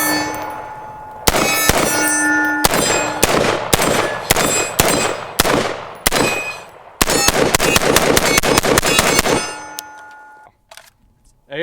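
A suppressed FN SCAR 16S rifle fires a rapid string of sharp cracks with metallic clangs from steel targets, shots spaced closely in bursts before the firing stops and a brief quiet follows.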